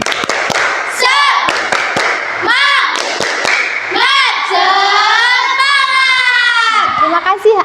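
Schoolchildren in a classroom doing a rhythmic spirit clap, sharp claps in patterned bursts mixed with loud chanted shouting from the group, with an adult voice leading between rounds.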